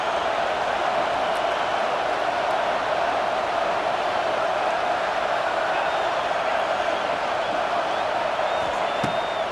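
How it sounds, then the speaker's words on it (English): Stadium crowd in College Football 26 roars as a constant, dense wall of noise with occasional whoops, while a commentator talks over it. "This crowd bringing the energy and noise early"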